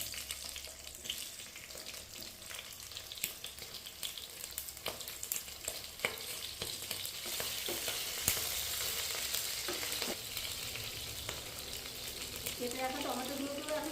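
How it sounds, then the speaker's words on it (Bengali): Chopped onions go into hot oil in a home kitchen while cooking an egg do pyaza. A steady close sizzle with crackles builds and swells near the end. "তো আমাদের তেলটা কিন্তু গরম হয়ে এসেছে, এখন আমি কেটে রাখা পেঁয়াজগুলোকে দিয়ে দেবো।"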